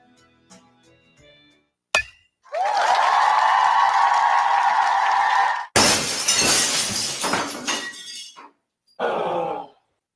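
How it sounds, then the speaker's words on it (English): A car windshield or window shattering: a sharp impact, then a long bright crash of breaking glass, a second crunching smash, and a final short burst of falling shards. "When the thrill of playing ball turns into the agony of a broken windshield or car window"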